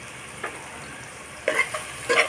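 Turmeric, chilli and coriander powder are stirred into egg dopiaza in a pan, giving three short scraping stirs over a faint, constant sizzle.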